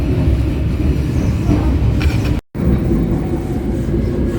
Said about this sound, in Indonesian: keretanya segera masuk ke stasiun Tulungagung